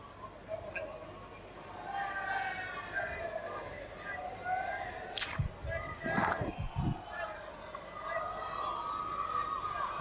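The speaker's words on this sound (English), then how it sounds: "the crowd are loving it, and so am I" Cheering and whistling rise from a cricket crowd at a match against Australia, a broad noisy roar under a commentator's voice that swells in the middle with sharp bursts.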